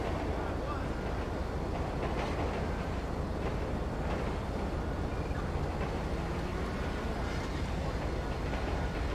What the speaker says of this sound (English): Good grief, that's a big train.